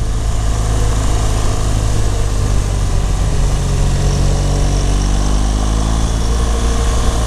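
BMW GS1200 motorcycle engine under way on a road, a loud, steady drone with constant wind rush that holds an even pitch from start to finish.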